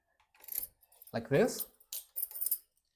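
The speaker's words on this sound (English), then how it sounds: "you get these keys and you can just place them this compartment" A set of keys jingles and clinks as they are placed into the compartment of a fingerprint door lock with camera, in short metallic bursts close to the microphone, under a person talking.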